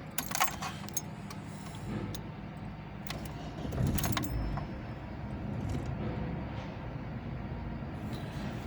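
Keys jangle close by, then a Ford Escort's engine is started and settles into a steady, low idle that continues to the end.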